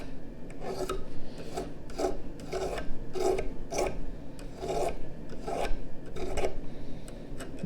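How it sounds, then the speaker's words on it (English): A small hand file rasps along the edges of a slide rule clamped in a vise, making about ten steady, evenly spaced strokes close up with no talking. "Just got like a small little tiny file. I'm just gonna run it along the edges."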